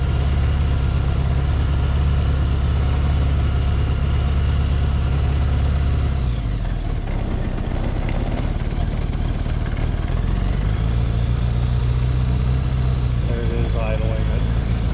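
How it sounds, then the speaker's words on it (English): A restored 1975 Honda Goldwing engine with aftermarket Motad exhaust idles with the choke pulled at a raised speed, a steady loud low throb that shifts pitch slightly partway through, with a voice speaking over it. "Idling at 1500 RPM."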